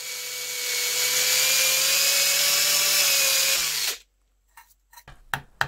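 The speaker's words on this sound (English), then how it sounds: "make a hole using your cordless drill" A cordless drill bores a hole in a piece of wood clamped in a bench vise, a loud steady whine holding for about four seconds before cutting off, followed by a few faint scattered knocks.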